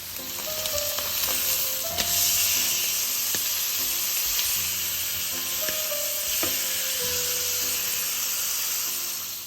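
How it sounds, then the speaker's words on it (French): Veal escalopes sizzle in hot butter in a frying pan, a steady close fry with crackling spits and occasional faint tonal squeaks, no voices. "quand la poêle est chaude, j'y mets les escalopes et je vais les faire cuire environ 4 minutes sur chaque face"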